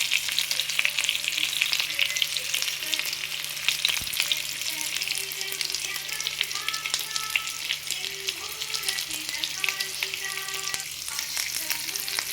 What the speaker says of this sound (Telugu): ఇది వేగుతుంది.